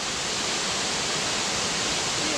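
A waterfall in Wensleydale near West Burton gives a steady, broad rush of falling water, constant and fairly close throughout with no other sounds over it.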